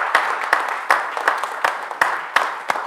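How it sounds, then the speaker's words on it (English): Applause from a church congregation welcoming a family into the fellowship at a Sunday service, a steady wash of many hands clapping with scattered sharper claps, fairly close and continuous without talk. "we give this wee family a round of applause"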